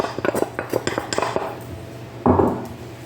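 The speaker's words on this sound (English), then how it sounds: "you want to keep whisking it until you combine all the flour into it" Wooden spoon working flour into choux pastry dough for chocolate eclairs in a pan: a quick run of clattering knocks and scrapes, then a louder, longer scrape near the end, close by with no talking.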